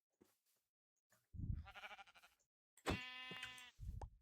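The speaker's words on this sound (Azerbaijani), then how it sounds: "qoyun." Sheep from the video game Minecraft bleat twice, each a short wavering call, close and clear with silent gaps between.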